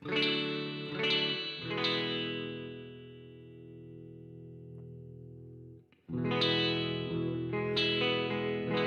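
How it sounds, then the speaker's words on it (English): An electric guitar run through a Maestro effects pedal board rings out in chords with effects, sustaining and decaying, then a fresh strum comes back in loud and close, with no talking. "I have my guitar connected into the Maestro pedal board you see on the screen there"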